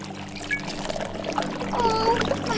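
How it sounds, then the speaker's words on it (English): Cartoon bubble mix pouring into a car wash, a loud, continuous liquid glug and splash with bright bubbly squeaks layered over the pour. "Let's put in all the bubble mix."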